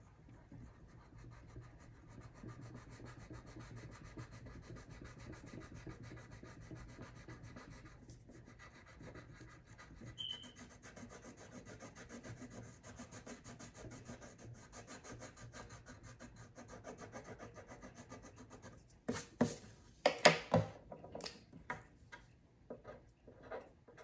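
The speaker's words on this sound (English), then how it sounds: "Now, you're going to color it in." A pencil colors in a drawing of a diamond with continuous soft rubbing and scratching strokes on paper, followed by a burst of quicker, louder scribbling strokes near the end.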